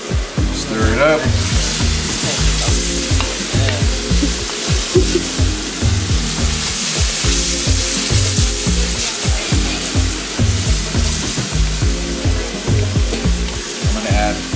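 Singapore noodle ingredients fry and are stirred in a pan, giving a loud, steady sizzle with rhythmic scraping and tossing throughout.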